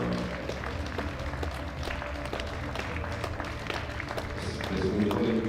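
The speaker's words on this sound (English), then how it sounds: "Give them a round of applause." A crowd applauds powerlifters entering at a Special Olympics European Open powerlifting event, a steady, continuous patter of many hands under background music and hall noise, swelling slightly near the end.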